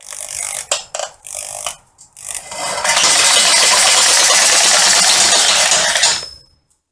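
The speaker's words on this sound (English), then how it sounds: "cut it by this reciprocating saw" A reciprocating saw cuts metal for a home workshop hoist: a few short stop-start bursts, then a loud, steady, harsh buzzing cut lasting several seconds before it cuts off into silence.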